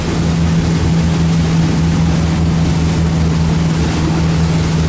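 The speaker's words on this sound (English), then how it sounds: "Really nice running boat." Four Winns 200 DLX motorboat, dented but running well, droning steadily on the water with a strong low engine hum and continuous wash of spray and wind, loud and close throughout.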